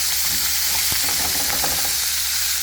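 Pork frying in a pan until crispy for a Jamaican corn pork and ackee dish, a loud steady hiss of sizzling fat with a few faint pops and stirring clicks, heard alone and close.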